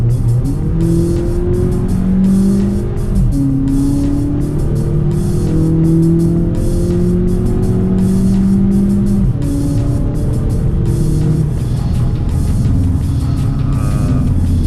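A rented car driven hard around the Nürburgring Nordschleife, its engine droning loudly and steadily with rising and falling pitch through gear changes, close-up cabin sound with no talk.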